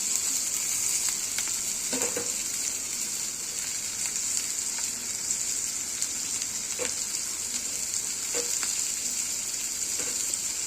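Capsicum pieces fry in a pan for a capsicum curry, giving a steady, loud, close hiss of sizzling oil that runs throughout, with occasional faint stirring clicks and no talking.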